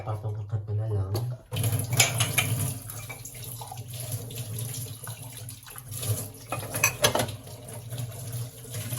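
Drinking glasses clink and knock as they are stacked one on top of another during dishwashing at a kitchen sink, with running tap water and small clatters throughout and a person talking over it.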